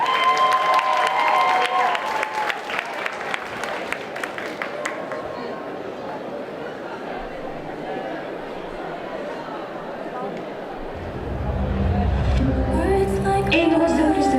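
An audience applauds a contestant at a cosplay contest during a Japan Party event, with clapping and cheers that are loud at first and fade into crowd murmur, before music rises near the end.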